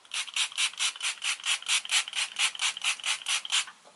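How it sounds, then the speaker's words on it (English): A rapid run of hissy e.l.f. setting spray bursts misting onto a face pulses close to the microphone, many quick puffs in a row, fairly soft. "I'm just going to spray the e.l.f. spray one more time and melt everything in"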